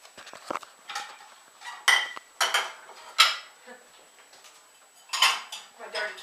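Plates and dishes clatter while a small girl helps unload a dishwasher in a home kitchen: several sharp, close clinks and knocks of crockery and cutlery come in bursts with quiet gaps between them.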